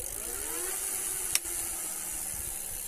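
An Eleglide M1 Plus e-bike's rear hub motor spins freely under throttle, giving a steady faint whine and hiss with a brief click partway through.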